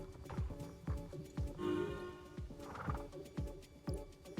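Horse in the Star Stable Online video game whinnying and snorting, with repeated quick hoof clip-clops in a steady rhythm, fairly quiet and without talk.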